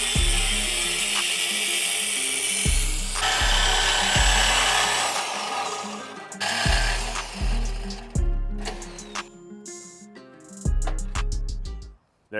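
A power saw cuts through the steel frame of an OBS Chevy single-cab truck for an underbed C-notch, grinding loudly and steadily in repeated strokes, then slowing to choppier bursts before stopping abruptly.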